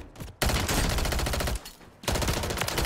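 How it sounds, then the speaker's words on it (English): Dense, loud bursts of automatic gunfire in Warzone, a battle royale video game, come in two long sustained volleys separated by a brief pause, with no talk over them. "someone's shooting at me"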